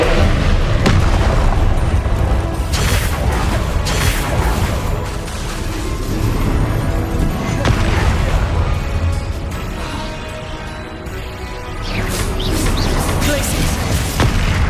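Spellcasting combat in Hogwarts Legacy: repeated loud booming blasts and magical impacts, with rumbling bursts rising and falling over a busy fight and voices present.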